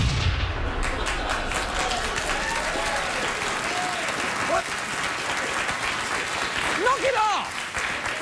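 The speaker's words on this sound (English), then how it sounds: "The desperate warm-up comedian clapping in front of people to make them clap." A studio audience claps loudly and continuously on a late-night comedy show, a thick, sustained roar of applause with people talking and calling out over it.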